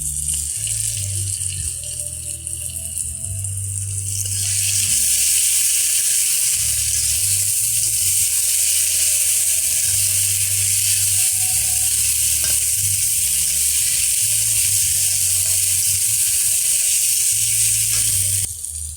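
Spice paste for a katla fish curry hits a hot pan and sizzles loudly and steadily, a bright continuous frying hiss that swells and then holds, with faint clinks and a low hum beneath.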